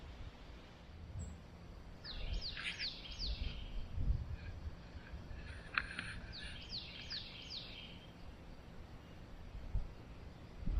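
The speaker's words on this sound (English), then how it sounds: "Just listen. Wind, birds," Birds chirp and sing at a quiet state park campground, two bursts of quick high descending calls at moderate distance over soft wind and low rumbling background.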